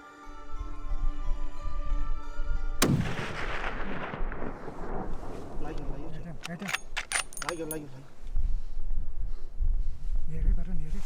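Rifle shot fired at a blue sheep during a Himalayan hunting expedition, a sudden loud crack followed by a rolling echo and outdoor rustle and handling noise.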